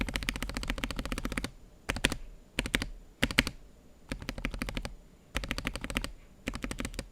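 A Key Dot Co Portico 65 keyboard with JWK Lagoon switches is typed on in quick bursts of rapid clacky keystrokes, close up and loud, with short pauses between flurries and no voices.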